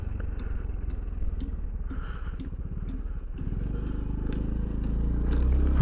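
A motorcycle rides into Divine Angel Memorial Park, its steady engine drone close by and growing gradually louder toward the end, with no talk over it.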